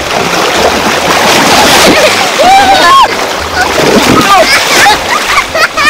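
Loud, churning water splashes up close during a beach volleyball outing, surging continuously. Excited voices and shouts break in over the sloshing.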